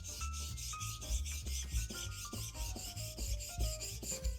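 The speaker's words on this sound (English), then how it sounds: "Place the flat side of the blade parallel to the whetstone and move it back and forth to sharpen" A skiving knife blade held flat and stroked back and forth on a whetstone, giving a steady rhythmic rasping scrape with repeated strokes about every quarter second, close and fairly quiet.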